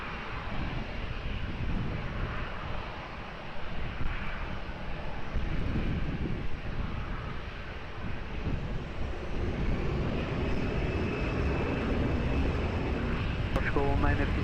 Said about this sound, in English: runway 20, clear for takeoff